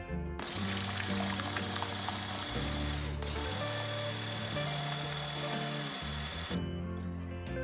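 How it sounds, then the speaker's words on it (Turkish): An electric mixer whips cream for chocolate mousse with a steady, dense mechanical whirring and rattling that runs nearly the whole time, mixed with background music. "Kremamızı kıvamlı bir hale gelecek şekilde iyice çırpacağız."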